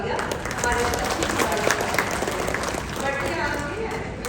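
Steady, dense applause from a large crowd at a road safety event, sustained at an even level throughout with no pauses.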